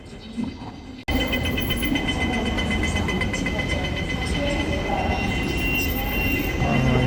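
Rumble of an airport metro train running steadily up close, its constant roar holding from start to finish after a brief quieter lead-in with faint background voices.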